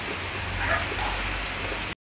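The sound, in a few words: heavy rain falling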